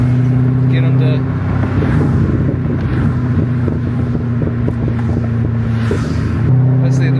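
Straight-piped LS3 Chevrolet Corvette C6 exhaust burbling at low speed in a quiet area, a loud deep droning rumble with rapid popping crackles through the middle, heard close from inside the car.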